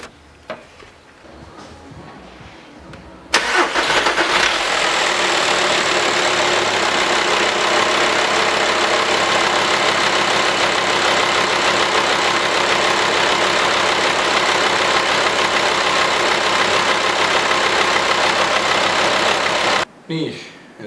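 A VW T5 van's 2.5 TDI PD diesel engine, freshly serviced with a new camshaft and injectors, fires up abruptly after a quiet start and settles into a steady, loud idle that runs unbroken for about sixteen seconds before cutting off.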